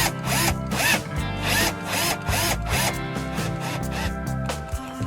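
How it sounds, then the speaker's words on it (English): A power drill drilling through a fabric-covered door card panel for a van conversion whirs in repeated short bursts, each rising and falling, with a steady low motor hum underneath, close and fairly loud. "At least you can drill through this"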